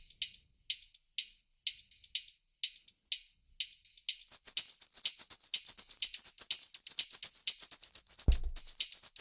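A bright deep house hi-hat loop from Premium Volume 5 ticks in a steady, swung pattern, with busier shuffling hats joining midway and a brief low thump near the end.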